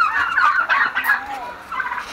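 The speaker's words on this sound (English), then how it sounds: "Oh, them baby turkeys." Young turkeys on a farm give a run of quick high chirping, trilling gobbles, close and clear, lasting a couple of seconds with no talk over them.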